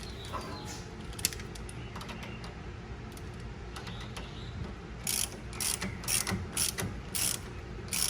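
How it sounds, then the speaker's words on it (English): A small socket ratchet tightens bolts while replacing the rack and pinion on a 2010-2013 Range Rover L322, giving bursts of quick, close mechanical clicking in the latter half. "And I am going to grab my small socket. Tighten these up."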